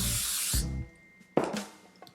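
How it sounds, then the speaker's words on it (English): Olive oil cooking spray hisses onto filleted salmon in two short bursts at close range, the first lasting about half a second and the second briefer. "now we're going to spray it with olive oil cooking spray."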